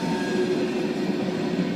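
A mixed freight train of covered hopper cars and tankers rolls past on the Kanawha River Railroad, a loud continuous rumble of wheels on rail with a faint steady squeal and no voices.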